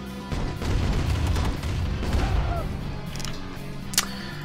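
Explosions in the Command & Conquer Remastered video game rumble in a low, sustained boom with a rolling crash, followed by a faint sharp pop near the end.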